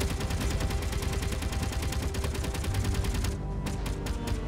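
Dense, unbroken automatic gunfire from the Space Engineers video game roars for several seconds, then breaks into a few separate final bursts.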